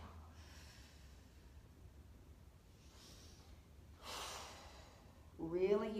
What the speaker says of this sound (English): Really use that breath out.